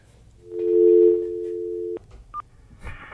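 Telephone tones on a radio call-in line: a steady, close tone holds for about a second and a half and cuts off, followed by a brief beep and faint line noise.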